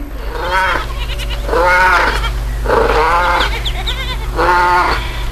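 Sheep in a flock bleat in four loud, wavering calls spaced a second or so apart, close by over a constant low hum, with no talking.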